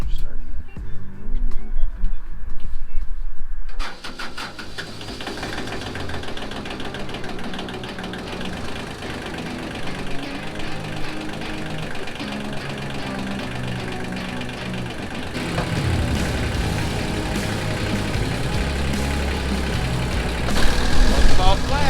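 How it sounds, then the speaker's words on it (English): A farm tractor engine cranks briefly, then catches and settles into a loud, rough, chugging run close by, swelling slightly toward the end. "I've actually never really had problems with this tractor start."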